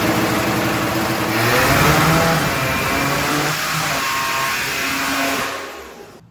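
Loud, continuous engine revving from a Buick Grand National on a dyno during a tuning session: the pitch climbs, holds steady at high revs, then falls away at the end, with no voices.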